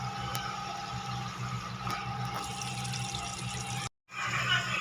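Water pours steadily into a pan of curry while cooking, a continuous close splashing and trickling that cuts off abruptly near the end before the background noise returns.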